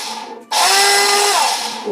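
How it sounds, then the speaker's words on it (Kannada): A mixer grinder whirs loudly as it grinds onion, mint, coriander and spices, starting abruptly after a short pause and running as a close, steady motor whine. "ಇದಿಷ್ಟನ್ನು ನಾನು ಗ್ರೈಂಡ್ ಮಾಡ್ಕೊತೀನಿ"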